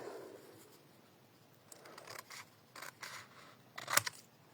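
Scissors snip through paper in a few soft, quiet cuts, the last one a sharper, brighter snip, with a hushed room behind them while a box with a closure is being made.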